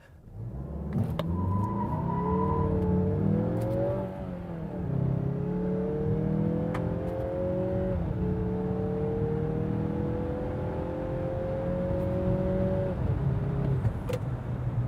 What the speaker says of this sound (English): So what is it like accelerating in this vehicle. Let's check it out.